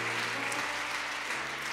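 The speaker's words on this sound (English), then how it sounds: "Could we give God a shout of praise, a hand clap of praise for that?" Church congregation clapping hands in praise during a Sunday service, a steady, dense wash of applause that carries through the whole moment without spoken words over it.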